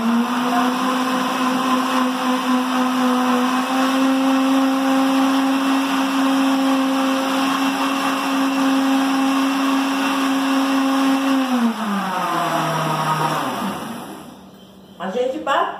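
An electric mixer beats bread dough made with wheat flour and a potato-based natural starter, a loud steady motor whine that holds for about twelve seconds, then drops in pitch and winds down to a stop.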